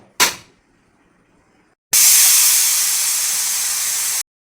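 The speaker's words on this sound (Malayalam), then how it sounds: "അത് അടച്ച് വെച്ച് കുക്കറിൽ വേവിക്കുക." A pressure cooker cooking tapioca lets out a short sharp puff, then after a pause a loud, sustained steam hiss blasts close by for over two seconds before cutting off.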